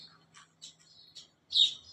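Several short, high bird chirps in scattered bursts, with a louder, busier flurry of chirping near the end; quiet background with a low steady hum.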